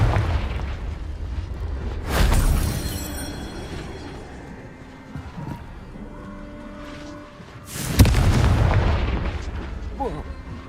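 A Confringo fire spell explodes in the Hogwarts Legacy game with two loud booming blasts several seconds apart, each followed by a rumbling tail. Softer game effects sound between them.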